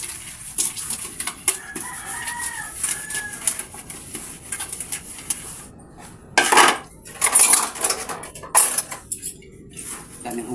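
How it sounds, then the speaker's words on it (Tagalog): Plates and cutlery clatter and clink in irregular bursts during dishwashing, with louder clanks toward the end and a rooster and chickens audible in the background. "Hugas muna ako ng pinggan."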